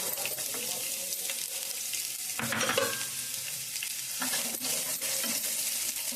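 Sliced onions sizzle in hot oil with curry leaves and green chillies, a steady crackling fry broken by a few sharper bursts and scraping stirs of the spoon, close and fairly loud.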